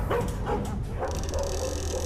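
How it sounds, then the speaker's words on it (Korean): A dog barks a few times in a dark Korean occult thriller, the barks moderately loud over a steady low rumble of ambient background noise, with no voices present. "개 짖는 소리"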